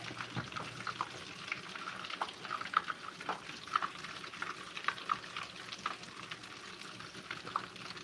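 Fish tossed into a pan of frying food, a steady close sizzle and crackle with scattered pops and light scrapes of stirring throughout.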